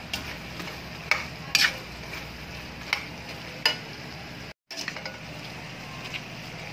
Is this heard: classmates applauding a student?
no